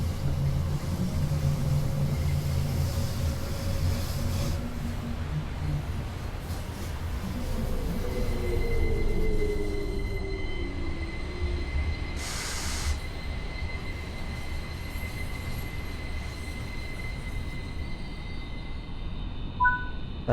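A train rumbles steadily along the Berninalinie between Ospizio Bernina and Tirano in Train Sim World 4, with continuous wheel and rail noise and faint squealing tones over the constant roll.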